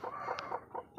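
A brooding hen in a chicken coop gives a few low, soft clucks close by, short murmuring notes in a loose rhythm with no one speaking.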